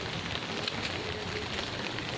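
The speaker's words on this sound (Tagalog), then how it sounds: "lakas ng ulan" Heavy rain pours steadily onto a small home vegetable garden with red yardlong beans and okra, a dense continuous hiss of drops close by, with no voices.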